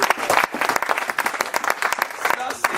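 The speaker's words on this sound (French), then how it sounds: "Applaudissez pour le Seigneur." Church congregation clapping for the Lord, dense rhythmic applause filling the room with voices mixed in.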